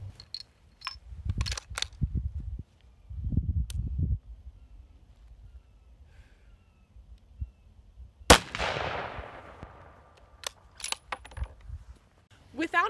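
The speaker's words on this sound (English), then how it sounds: "I'm going to shoot this traditional hunting rifle with no suppressor" Soft clicks and handling thumps, then one loud, sharp shot from an unsuppressed hunting rifle cracks out and rolls away in a long echoing tail.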